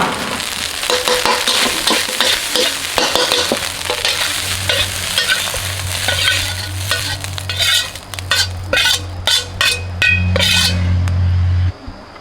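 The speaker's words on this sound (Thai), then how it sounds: "ตอนจบนี่ก็เร่งไฟแรงนะครับ เพื่อให้ข้าวเนี่ยหอมกลิ่นกระทะ" Kale and salted fish fried rice tossed in a wok over high heat: a constant loud sizzle with rapid metallic scraping and clanking of the spatula, close up, with no talking.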